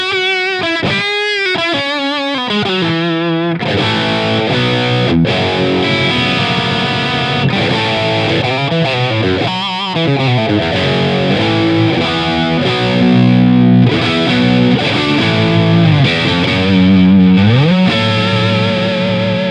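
Fender Custom Shop Stratocaster played through its bridge pickup into a boosted, distorted amp with the guitar's tone rolled down, a loud, thick overdriven tone with sustained bends and riffs, played without any talking.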